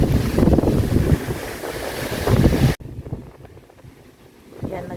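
Strong typhoon wind gusting in Hong Kong, a steady roaring rush and buffeting that cuts off sharply midway, then continues more faintly before swelling again near the end.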